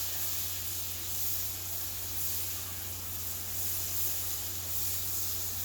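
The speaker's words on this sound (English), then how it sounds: "back here I have my oil heating up for frying the pork chops" A steady, even hiss with a low hum underneath as oil heats in a pan for frying pork chops, continuous and unchanging with no voices.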